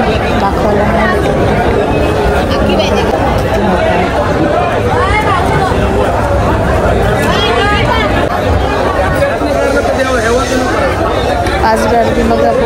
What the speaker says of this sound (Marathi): आज गर्दी बघा पूर्ण एंडपर्यंत लोक आहेत सकाळीच